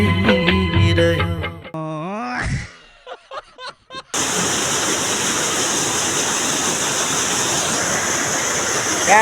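Waterfall near a Nepali village, a loud continuous broadband roar of falling water that starts abruptly and fills the rest of the clip after a few seconds of music and clicks.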